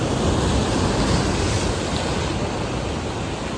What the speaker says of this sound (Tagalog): the sound of the waves is also very relaxing